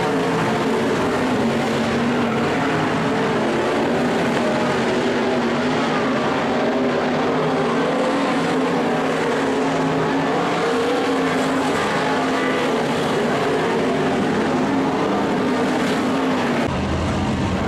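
Sprint cars roar around a dirt oval during a heat race, a dense continuous high-revving engine drone from several cars at once, loud and sustained throughout.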